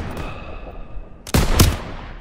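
Machine-gun fire in Call of Duty WWII, a street battle in a town square: a dense, loud burst of rapid automatic shots, then a second heavy volley, over a low rumble of battle ambience.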